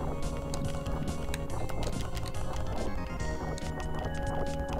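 Horse hooves clip-clop steadily in a video game, a dense continuous patter of close, loud footfalls over a busy background of game sound.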